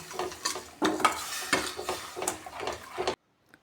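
Sugar and jaggery syrup is stirred in a pot, with rhythmic scraping and clinking of a spoon against metal over a soft bubbling, close and clear, ending in abrupt quiet.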